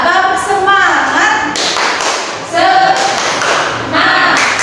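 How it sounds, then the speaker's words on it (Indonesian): A school class claps out a rhythmic spirit clap (tepuk semangat) in loud, close, patterned bursts, with voices chanting along between the claps. "bisa kita tepuk semangat dulu, mau?"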